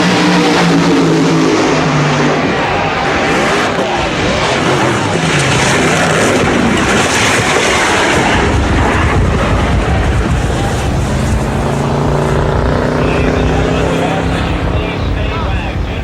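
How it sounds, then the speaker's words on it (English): Nitromethane funny cars roar loudly through a drag race crash in 1984, a continuous, heavy engine and crowd din with a commentator talking throughout. "You have just witnessed one of the most incredible crashes in the history of all motorsports."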